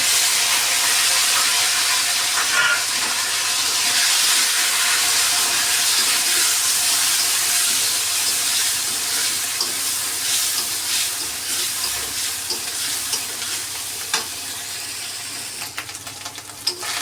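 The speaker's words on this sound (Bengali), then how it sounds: "এখন আমি দিয়ে দেব পেঁয়াজ আর জিরে বাটা।" Onion and cumin paste frying with potatoes in a pan gives a loud, continuous steamy hiss up close, with a few faint scrapes toward the end.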